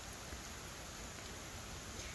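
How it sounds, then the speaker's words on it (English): Heavy rain pours steadily outside, a dense continuous hiss like distant surf with no breaks, moderately quiet and with no voices. "it started pouring, like, not pouring, but it started to rain"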